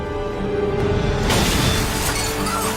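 Explosion in a Captain America film scene, a sudden loud burst with shattering, breaking debris that bursts in over a low rumbling background and decays slowly.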